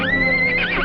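A horse in an Old West movie scene gives a close, loud whinny lasting under a second, its pitch wavering and rising toward the end, heard alone without talk.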